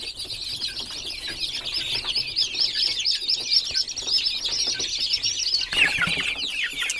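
Young Hercules meat-breed chicks peeping and chirping in a dense, continuous chorus close by, high rapid calls overlapping throughout, with a brief louder flurry near the end.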